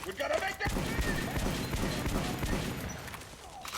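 Several shotgun blasts ring out in Metro 2033 Redux, sharp reports spaced a second or so apart amid rumbling game noise, with a voice talking over them.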